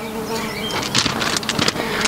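Honeybees hum steadily around a frame lifted from an opened hive during a natural-beekeeping inspection of a split colony. The dense, close buzz swells in short bursts and holds throughout.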